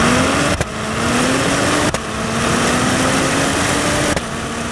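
A 2022 Acura TLX Type S at full throttle in Sport Plus, its engine note climbing steadily through the gears, with sharp upshifts at about 0.6, 1.9 and 4.2 seconds cutting the rising drone, loud and close with no talk.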